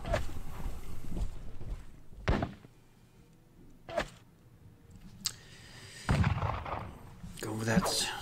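Artillery booms from Napoleonic-era cannon in a Leipzig battle strategy game, a few separate thudding blasts spaced across the stretch amid quiet ambience, with a voice speaking at the end.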